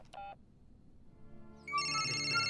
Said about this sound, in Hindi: ओ, चेयरमैन साहब का फोन।